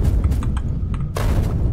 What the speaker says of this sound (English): Grenades do work pretty good for this. A little expensive, but you know, it takes care of the trees for you.